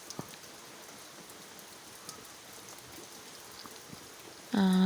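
Steady rain falls on a village during a wet morning, a soft continuous hiss with scattered drip ticks. A sudden louder burst cuts in at the very end.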